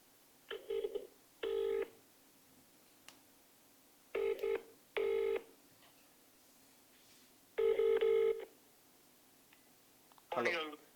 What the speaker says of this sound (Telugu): ఒకసారి కాల్ చేద్దాం